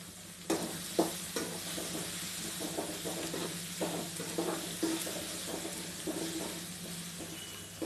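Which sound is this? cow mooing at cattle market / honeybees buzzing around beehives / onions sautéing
onions sautéing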